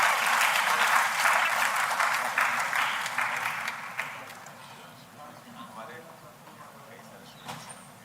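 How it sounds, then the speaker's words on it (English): An audience at a national seminar session claps loudly for the speakers, the dense applause holding for about four seconds before thinning into scattered claps and quiet room sound, with voices nearby. "please give a round of applause for all the speakers"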